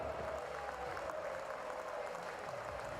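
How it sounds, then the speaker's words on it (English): A sellout football crowd at Anderlecht's stadium for a Jupiler Pro League play-off match, a steady dense buzz of many voices and distant cheering, continuous and fairly faint with no single voice standing out. "The stadium is buzzing."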